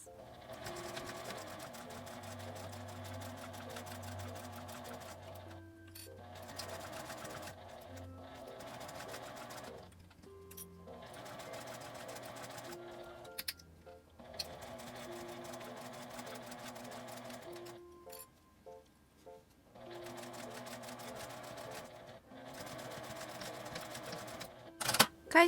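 A sewing machine stitches fabric scraps with a 1 cm seam allowance in several close bursts of rapid, rhythmic clatter, separated by short pauses and handling clicks, with no voices.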